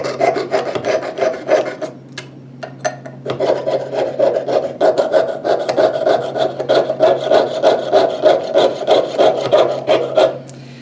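Close, steady rasping of a fine piercing saw cutting with rapid back-and-forth strokes while gradually turning, briefly pausing before resuming its even rhythm.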